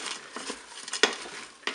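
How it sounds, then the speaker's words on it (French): A utensil stirs paprika into potatoes and pork steaks frying in a pan, giving quick scraping strokes and clinks against the metal over a soft sizzle, close and brief. "Je mélange."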